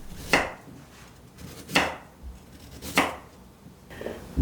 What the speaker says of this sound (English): The carrots, I like to cut them into sort of bite size